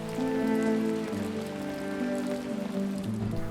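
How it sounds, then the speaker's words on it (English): Steady autumn rain in the Scottish Highlands, dense pattering on surfaces with a continuous even hiss, alongside a sustained droning tonal sound, no voices. "In mid-October, it rained non-stop for 2 weeks."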